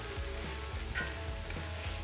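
Risotto rice sizzles in a pan as dry white wine (Riesling) is stirred in, a steady close hiss with a rhythmic scraping pulse from continuous stirring, and no one talks.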